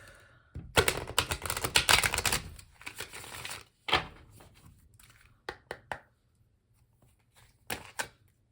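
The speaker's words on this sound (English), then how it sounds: "Shuffle and cut the deck." Papery riffling of a tarot card deck being shuffled, a dense flurry of flicks, then a few separate sharp snaps and taps as the cards are squared and cut.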